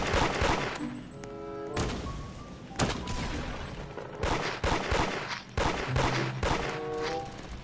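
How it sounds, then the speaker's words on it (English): Gunfire in the Da Hood video game, with repeated loud bursts of shots arriving in uneven clusters, some quick rapid strings, over a steady background of game sound. "y'all just shooting innocent people that ain't got nothing to do with it"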